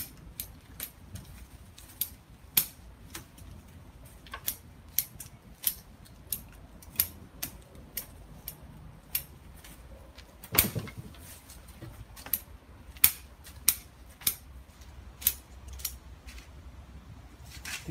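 Pruning shears trimming a maple bonsai tree, sharp metallic snips repeating every second or so over about eighteen seconds, close and crisp against a quiet background with faint rustling.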